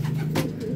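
Racing pigeons coo steadily in a loft, a continuous low throaty burbling that runs close and clear through the whole moment, with no talk over it.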